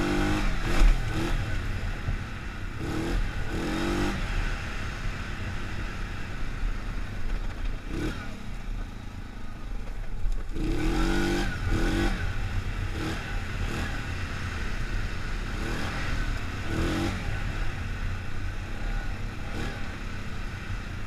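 A Yamaha Grizzly ATV engine labouring up a steep hill, a steady loud drone with periodic surges of revving and clattering over about twenty seconds.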